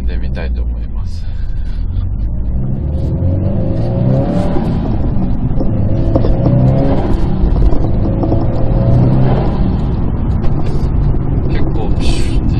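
Subaru WRX STI (VAB) fitted with an HKS dry carbon suction intake, revving at night with loud engine roar and rising and falling pitch, a talking voice over it throughout.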